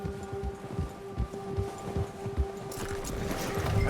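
Steady clip-clopping of horse hooves at a walking pace in the video game Red Dead Redemption 2, close and fairly clear, with a low ambient hum and some rustling toward the end.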